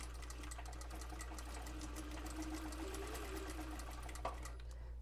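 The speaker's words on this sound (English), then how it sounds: "If I step on the pedal, we're just going to do a straight stitch." A Bridgsew R8-S sewing machine running a steady straight stitch under pedal control, giving a continuous fast mechanical chatter with rhythmic ticking, close and even in level, with no voices.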